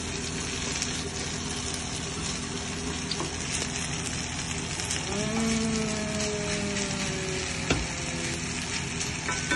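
Beef fillet sears in a frying pan with a continuous loud sizzle and crackle, a faint tonal whine rising midway, and no voices.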